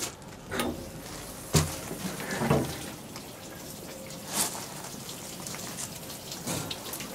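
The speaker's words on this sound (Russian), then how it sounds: "Включаем воду." Water spraying inside an NT-600 poultry plucking machine, a steady hiss like rain with some sharp knocks and taps, at moderate loudness and with no talk.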